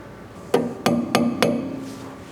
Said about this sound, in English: you're gonna grab your cotter pin, your little hammer, just to tap it in there sometimes